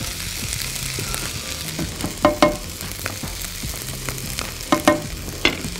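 Onion and garlic crackle and hiss in hot oil in a pan for a stir-fry, with a steady sizzle broken by several sharp metallic spatula clanks as the pan is stirred.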